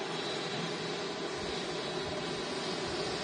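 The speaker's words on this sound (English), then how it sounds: "Epic view of the Emirates A380-800, number 2 of today's show." An Emirates Airbus A380-800 airliner at Manchester Airport makes a steady, broad jet-engine roar that holds even and unbroken throughout, with no talking.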